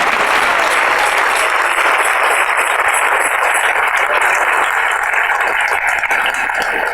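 Applause from a church congregation during a Spanish-language sermon, a dense, steady wash of clapping that fills the whole stretch at close range with no voices over it.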